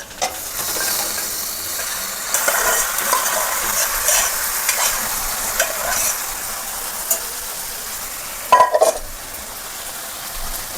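Chunks of beef stirred through a sizzling frying pan, with a steady fry hiss, repeated scraping stirs and a brief clatter of utensil against the pan near the end.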